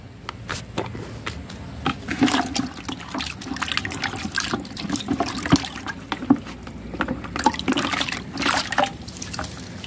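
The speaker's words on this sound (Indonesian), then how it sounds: "Dan selanjutnya kita cuci ya. Kita cuci dengan bersih." Close-up water splashing and trickling as a banana corm is scrubbed clean by hand, with uneven sloshes and drips continuing steadily throughout and no voices.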